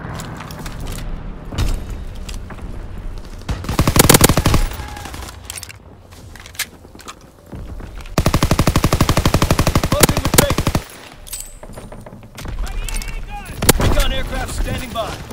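Bursts of machine-gun fire from a WW2 fighter plane strafing a target in a video game, with long loud rattling volleys and scattered gunshots amid battle noise, layered under radio-style voice callouts.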